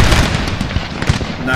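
Musket volley fire from line infantry in Napoleon Total War, a quick crackle of several overlapping shots close by in a short burst.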